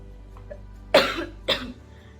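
Two distinct coughs from a woman with a long-standing, persistent cough, about half a second apart, close and fairly loud, over a quiet background.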